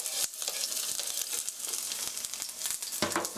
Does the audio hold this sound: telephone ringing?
no